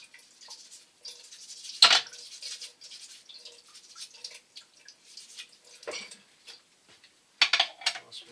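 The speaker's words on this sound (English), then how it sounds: "give the knife a little swish" A kitchen knife swished and rinsed in water while preparing a curried beef stew, with scattered splashes, clinks and drips, one sharp slosh early and a few more bursts later, close and fairly quiet.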